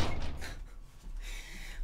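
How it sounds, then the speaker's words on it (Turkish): Interior door opened and shut to let cats through, heard as a couple of close wooden thuds and a soft slam in a quiet room. "Bu yayınlar esnasında kedilere kapı açıp kapatmaktan gerçekten bıktım."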